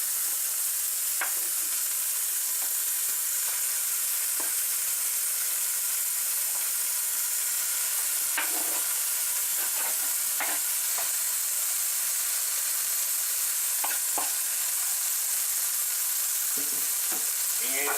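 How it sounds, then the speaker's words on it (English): Hamburger, sausage and onions fry in oil for cabbage unrolls, giving a steady close sizzle with scattered crackles and pops throughout and no talk. "We're going to brown the onions, the oil, the sausage, fry it all up"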